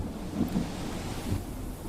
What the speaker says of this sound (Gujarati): અને ઊંઝામાં વરસાદ આવ્યો છે